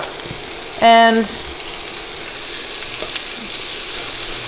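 A big onion frying in a pan for a coconut chicken curry, with a steady close sizzle throughout, briefly interrupted by a short spoken word.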